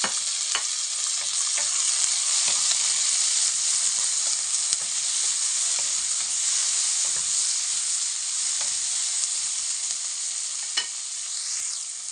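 Chili and tomatoes frying in a pan for Arabic-style chicken mugalgal: a loud, steady, close sizzle with occasional scrapes of stirring and no talk.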